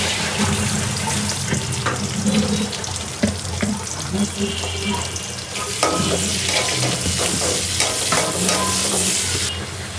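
Chopped onions sizzle in a hot pan with a dense, steady crackle, close and loud, with faint stirring scrapes scattered through it.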